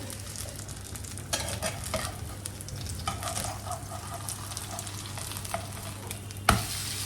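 A chila, a savory pancake, sizzles steadily in a pan on a home stove, with a few louder scraping stirs and one sharp knock near the end; no one speaks.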